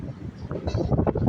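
Wind rushes and buffets across the microphone on the 39th floor of a high-rise residential tower, a steady, loud, rough roar with gusty swells and no voices.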